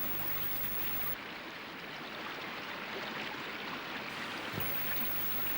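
The holy Ganga river flows in a steady, broadband rush of water that holds even and fairly close throughout, with no voices over it.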